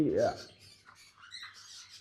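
A sharp lory parrot squawk bursts out at the start, followed by fainter chattering calls and rustling, close by and brief.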